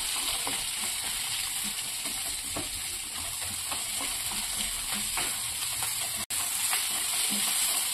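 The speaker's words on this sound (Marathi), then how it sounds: "यामध्ये आपण कांदा टाकून घेऊया। कांदा तळून घेऊया।" Two or three large onions, sliced lengthwise, fry in a pan for paneer tikka masala, giving a dense, continuous sizzle with faint stirring ticks, close and steady, with no voices.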